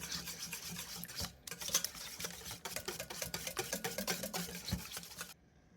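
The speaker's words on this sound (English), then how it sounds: "We're going to whisk this all together." Wet ingredients for a keto lemon poppy seed loaf batter are whisked in a bowl, giving quick, close, scratchy rhythmic strokes with a brief pause partway through.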